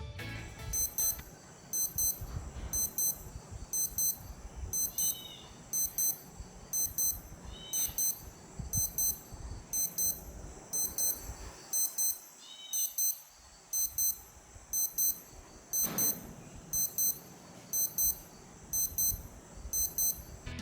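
A Casio F-84W digital watch alarm sounds repeated short high-pitched beep bursts in a regular pulsing pattern, steady and fairly close throughout, over a faint background.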